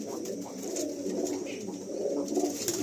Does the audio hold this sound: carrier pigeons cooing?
yes